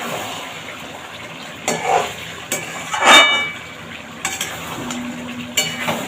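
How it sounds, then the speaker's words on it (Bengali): Dahi chicken being stirred with spices in a pan, close scraping and clinking of a utensil against metal in irregular strokes over a faint sizzle, with no one speaking. "এইভাবে নেড়ে চেড়ে মশলার সাথে খুব সুন্দরভাবে মিশিয়ে দিতে হবে।"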